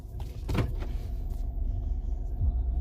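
Power side mirrors on a 2015 GMC Sierra Denali truck tilting down in reverse, a brief motor whir over a steady low engine rumble.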